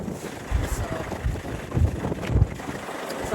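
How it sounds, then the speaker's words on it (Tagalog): Strong wind at Nikka's Ridge blasts the microphone in repeated low, rumbling gusts that surge and fade irregularly, loud and close. "sobrang hangin."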